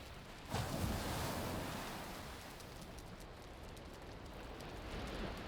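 Water laps and splashes around a battered raft in the video game Valheim, a dense, continuous wash of surf-like noise that swells shortly after the start and then rolls on evenly and softly.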